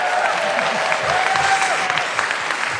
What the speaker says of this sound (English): Round of applause for Foster, if you don't mind.